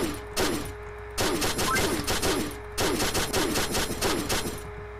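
Rapid automatic gunfire in Pixel Gun 3D comes in three long bursts of fast, crisp shots, loud and close, separated by brief pauses.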